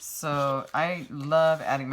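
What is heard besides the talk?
No distinct noise like a dog, phone or traffic.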